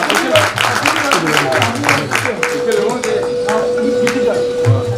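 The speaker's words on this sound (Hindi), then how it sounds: "मैं चाहूँगा एक बार जोरदार तालियों के साथ में आप उनका स्वागत करें।" Audience applause welcomes a guest at an inaugural ceremony in Udaipur: dense, rapid clapping that stays fairly loud throughout, with a voice over it.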